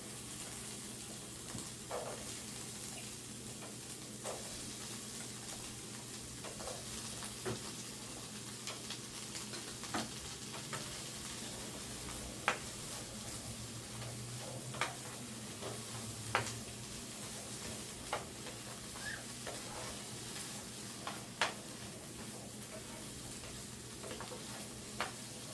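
Peppers added to softened onions for home fries sizzle steadily in a pan. The constant, fairly quiet frying hiss carries occasional small pops and ticks, and no one speaks.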